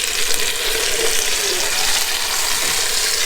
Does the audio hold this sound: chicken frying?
yes